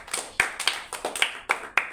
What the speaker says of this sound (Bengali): সবার জন্য হাততালি দাও।